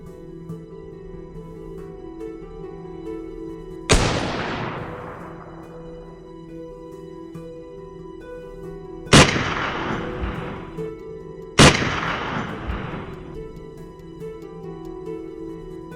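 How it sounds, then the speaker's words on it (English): Three loud gunshots crack out while hunting wild boars and red foxes, spaced several seconds apart, each with a long rolling echo fading into a faint background hum. "A common technique is using rifles to shoot from a distance, minimizing the risk of direct confrontation."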